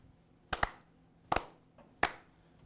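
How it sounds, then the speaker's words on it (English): A slow, deliberate clap in a quiet room: sharp, close hand claps in spaced pairs and singles, roughly one every three-quarters of a second, with silence between them. "He deserves a slow clap for his work"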